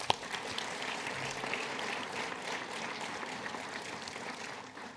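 Applause at a university graduation ceremony, a sustained even wash of clapping from a crowd filling the hall at steady moderate volume.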